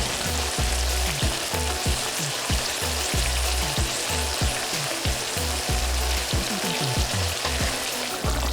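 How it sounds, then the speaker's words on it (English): Beef frying in curry sauce in a pan, a steady close sizzle and crackle with repeated rhythmic popping and bubbling throughout, no voices. "I'm gonna let the beef fry up in the curry for 15 to 30 minutes."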